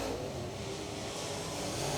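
Dirt late model race car engines drone continuously at a distance, a steady roaring whine of several cars circling the Talladega Short Track without any talk.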